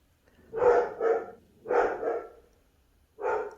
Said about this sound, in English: Sorry for my dogs. I'm not sure what they're barking at.